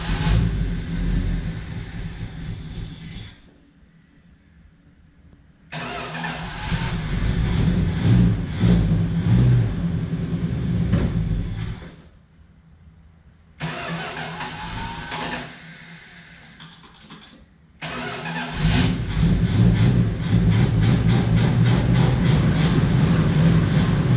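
A 1971 Plymouth Road Runner engine cranks and runs in loud rumbling bursts, separated by several abrupt quiet gaps as it stalls and is restarted, low heavy engine noise dominating with no speech.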